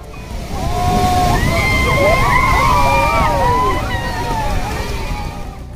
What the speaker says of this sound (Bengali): এই সমুদ্রের ঢেউ দেখতে দেখতে